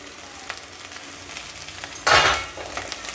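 Chopped field beans, chickpeas, carrot and tomato being sautéed in a pan for masale bhat, a low sizzle under light stirring scrapes, then a sudden louder burst of frying about two-thirds through.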